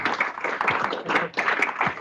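Brisk audience applause at an evening C++ meetup, a steady patter of many hands clapping close and loud throughout the short stretch.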